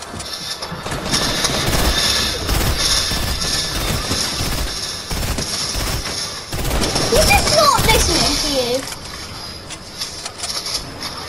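Fortnite gunfire rattles in a quick, regular string of close shots over a constant mechanical hum, with other game sounds mixed in and a short pause partway through.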